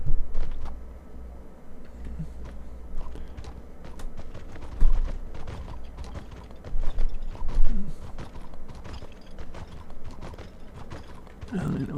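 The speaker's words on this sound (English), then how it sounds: "I'll jump on the horse just because." Horse hooves clip-clop in the online game Mortal Online, a steady run of fairly close thuds with a few louder hits.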